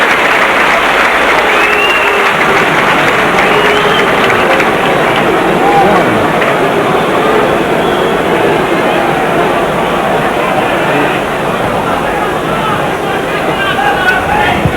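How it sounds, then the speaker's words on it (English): A football crowd at a Grimsby Town match applauds a substituted player, a loud, steady wash of clapping and crowd noise that runs unbroken throughout, with commentary voices talking over it. "They'll get a good round of applause with Jack Lester."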